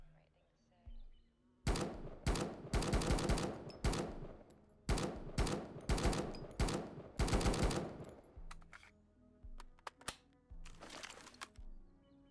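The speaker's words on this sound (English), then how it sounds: "Let's try out the M4 first." M4 rifle gunfire in the survival shooter Road to Vostok, loud sharp bursts of rapid automatic shots in several strings with short gaps, then scattered single cracks and a last short burst.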